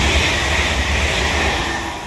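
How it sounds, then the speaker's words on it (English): A London Northwestern Railway passenger train passes through a station on the West Coast Main Line, a loud, close, continuous rumble and rushing roar that holds steady, then eases slightly. "This is forming the 1414 as well, London North Western Railway service to Liverpool Lime Street."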